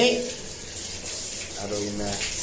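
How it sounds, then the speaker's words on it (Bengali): Water splashes and pours steadily over a dog being wetted for a bath, a running, tap-like gush that holds for the whole stretch with no pause. "এদের গায়ে এখন জল দিয়ে ভেজাচ্ছি।"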